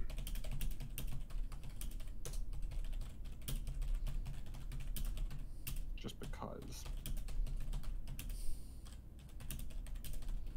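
Continuous rapid typing on a computer keyboard, close and steady throughout, with a brief spoken remark partway through.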